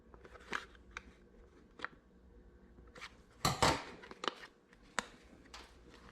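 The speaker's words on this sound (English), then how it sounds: "we're going to trim a little bit of this cut out of here" Scissors snipping at a cut on a whitetail deer ear during taxidermy repair, a scattering of quiet close clips and soft rustles at an uneven pace, with one louder burst of handling noise midway.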